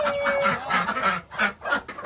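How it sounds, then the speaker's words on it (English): Rescue ducks on a farm quacking as they are let out in the morning, several close, nasal honking calls in quick irregular bursts. "I'm letting the rescue ducks out."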